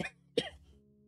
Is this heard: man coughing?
yes